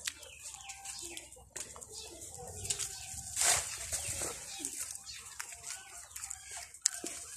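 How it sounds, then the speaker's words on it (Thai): A duck kept in a backyard pen gives faint, scattered calls with some wing flapping, mixed with other fowl sounds in a quiet rural yard. "เป็ดน่ะ"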